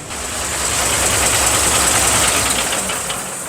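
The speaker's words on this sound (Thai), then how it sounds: "ลองฟังเสียงสโลเขานะครับ นี่ครับ เสียงสโลนุ่มๆเลย" An Isuzu V330 Rocky ten-wheeler 6x6 truck with a large V10 engine idles, a steady, close, soft rumble with dense broadband noise and no speech.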